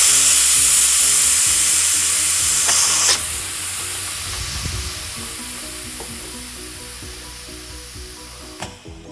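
A pressure cooker vents steam after cooking paneer and vegetables, giving a loud steady hiss that slowly fades over several seconds, with a couple of brief clicks.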